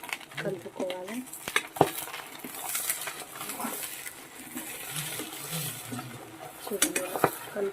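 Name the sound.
stirring goat brain fry in a pan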